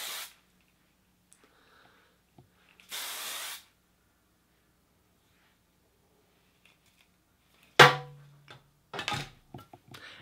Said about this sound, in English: And I'm going to give a shot of hairspray.